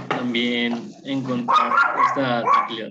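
A dog barks and yips in the background of a home setting while someone speaks Spanish over it, the barks mixed under her voice.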